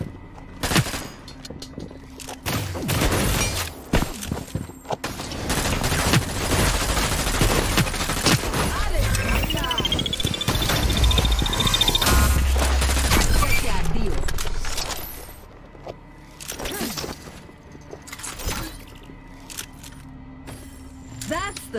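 Rapid bursts of gunfire from the shooter game Hyper Scape in team deathmatch, sustained automatic fire and scattered single shots, loud and close, with a player talking between volleys.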